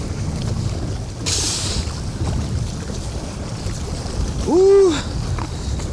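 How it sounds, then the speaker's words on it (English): Strong wind blows across a small fishing boat on open water, a steady rushing roar with a louder gust near the start and a brief rising whistle toward the end. "There it is, the wind."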